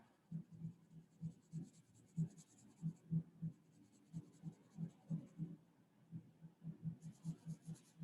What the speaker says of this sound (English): I'm just going to color in both directions to make sure I get a nice tonal value